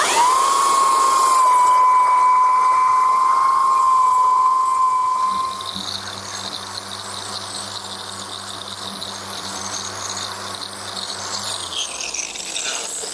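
A belt sander fitted with an 80 grit belt works across a wooden butcher block, a high steady whine that drops into a rougher, lower grinding rasp partway through, loud and close with no voices.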